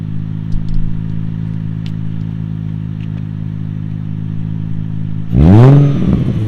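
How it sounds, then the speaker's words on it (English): A 2004 Nissan 350Z engine idles with a steady low rumble, then revs sharply once near the end, rising and falling quickly. "let me show you what a good Nissan 350Z sounds like"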